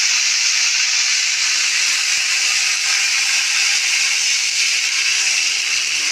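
Red greens boiling in water in a pot, a loud, constant hissing and sizzling steam noise close up, steady throughout with no voices.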